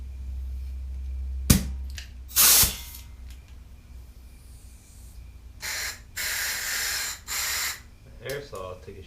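An aerosol spray can sputters during a Honda Ruckus scooter teardown: a sharp pop, then several short uneven hissing bursts, close and loud, with a voice briefly audible between them.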